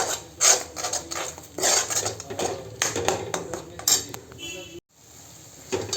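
A spoon scrapes and clatters around a pan as ginger, garlic, green chili and coriander paste is sautéed into a masala for soybean bhaji, irregular close stirring knocks with a brief pause near the end.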